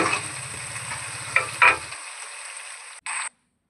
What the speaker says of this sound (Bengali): সব মশলাগুলো ভালো করে নেড়ে কষিয়ে নিচ্ছি